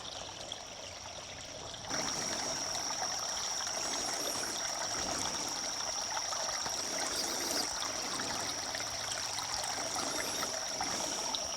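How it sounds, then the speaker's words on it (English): A small brook in an Appalachian rainforest trickles and burbles steadily, a soft continuous flow of water that swells slightly after the first two seconds, with faint high bird chirps above it and no speech. "look at this, as cute as can be, little brook."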